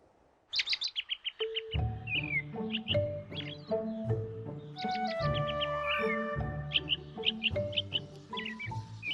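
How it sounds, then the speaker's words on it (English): Dense, bright bird chirping from weaver birds, rapid high tweets and trills overlapping in a lively chorus, fairly close and steady throughout. "The weaver birds build their nests in early summer."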